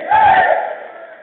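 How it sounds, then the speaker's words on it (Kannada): A crowd at a Savitha Samaja community gathering lets out one short, loud collective shout of a victory cheer that fades quickly. "ಒಂದ್ಸರಿ ಎಲ್ಲಾ ಸವಿತಾ ಸಮಾಜಕ್ಕೆ ಒಂದು ಜೈಕಾರ ಹಾಕೋಣ"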